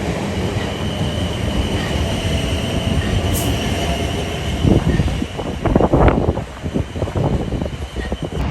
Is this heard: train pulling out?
yes